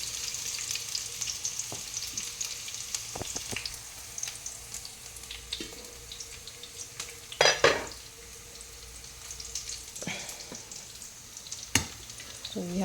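Pork chop sizzling and frying steadily in a pan, with occasional clinks and scrapes of a utensil against the cookware.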